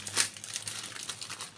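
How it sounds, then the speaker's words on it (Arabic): A plastic bag of fresh mozzarella cheese crinkles quietly and close by, a brief rustling handling sound with no talk over it. "ده كيس جبنة اسمه موتزاريلا فريش"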